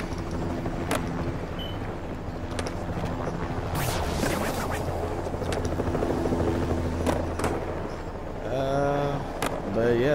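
Helicopter rotor whir in Tony Hawk Pro Skater 1+2, a steady low drone running throughout beneath voices and game sound effects.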